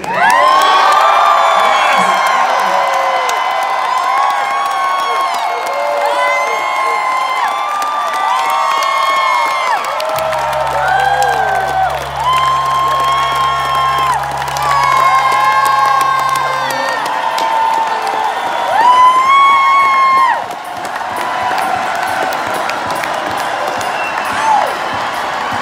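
A large concert crowd at an encore that became a reunion cheers and whoops loudly and steadily, with shouts rising in waves and some clapping mixed in.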